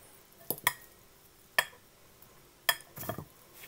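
A fork stirs instant Samyang seafood udon noodles with shrimp flavour in a container, giving a few sharp clinks and taps against the side, spaced apart, then a short scraping rustle, close and fairly quiet.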